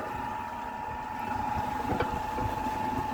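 A homemade mechanical wood splitter driven by a worm-gearbox motor runs after being switched on, with a steady, droning mechanical hum and faint knocks heard up close with no speech.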